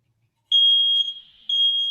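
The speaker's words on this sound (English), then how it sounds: "That's your fire alarm." A smoke alarm sounds a loud, steady high-pitched tone indoors, starting after a short silence, dipping briefly and then continuing strongly to the end.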